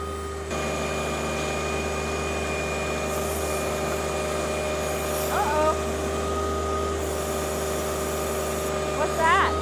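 A tractor backhoe digs around a buried pipe in dirt, its diesel engine holding a steady, droning hum with tonal whine throughout, and a couple of short squeaky chirps near the middle and end.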